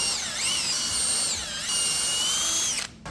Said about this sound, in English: So we're going to pre-drill some holes.